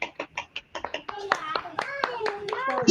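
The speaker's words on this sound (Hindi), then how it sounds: "और तालियां बजा दीजिए बढ़िया से।" Scattered hand claps from an audience at a motivational talk, a few sharp separate claps in the first second before a voice speaks over the rest.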